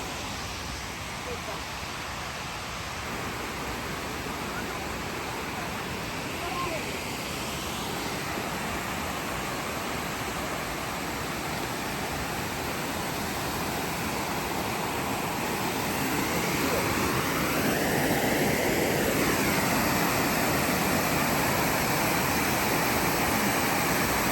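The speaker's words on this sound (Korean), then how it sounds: "3단 폭포라고 하네요." The three-tier Bongnae waterfall on Ulleungdo pours in a broad, steady rush of falling water, close and constant throughout, swelling slightly louder toward the end.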